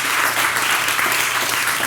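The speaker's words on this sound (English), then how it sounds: "Please give a big round of applause for your host tonight, Cara Platoni." An audience at a journalism school evening talk applauds the host, a loud, dense wash of clapping that holds steady and close for the whole moment with no speech on top.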